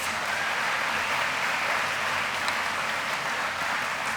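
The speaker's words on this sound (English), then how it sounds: "Give each and every one of these teams and coaches another round of applause" Sustained applause from a banquet crowd honoring conference champion teams and coaches at a school athletic banquet, a dense steady roar of many hands clapping evenly throughout with no voices standing out.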